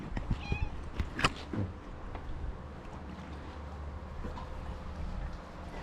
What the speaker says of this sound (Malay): Yang ni dia kucing jantan ni.